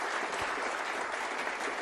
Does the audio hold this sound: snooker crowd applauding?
yes